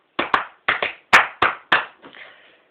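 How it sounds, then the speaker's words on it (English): A person claps hands about six times in an uneven rhythm, sharp close slaps with short pauses between them, ending with a softer brushing rustle. "I'll clap."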